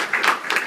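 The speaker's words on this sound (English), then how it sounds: "give him big round of applause" Short burst of crowd applause at a JB Open event, dense overlapping claps rising and falling over under a second.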